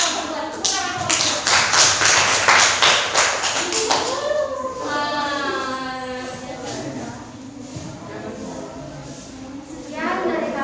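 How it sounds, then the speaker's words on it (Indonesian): Classroom clapping for a student group, a burst of sharp taps and claps in the first four seconds, then fading under voices talking as the applause dies down. "Tepuk tangan kelompok 2."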